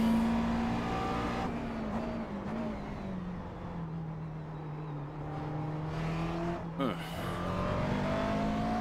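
McLaren MP4 GT3 racing at Daytona in iRacing, its engine pitch sinking steadily under braking, then a brief tire scrub and the revs climbing again as it accelerates, heard close throughout with someone talking over it.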